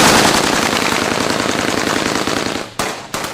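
A long, dense burst of rebel machine-gun fire on a contested road, loud and continuous, breaking off briefly near the end before another short burst resumes.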